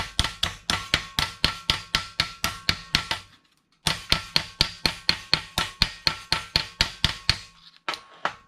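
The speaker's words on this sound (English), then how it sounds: "we could take a hammer and continue to take the hammer and flatten that out" A hammer strikes curved automotive sheet metal in quick, even runs of sharp metallic blows, close and loud, with a short pause midway and a few scattered final taps.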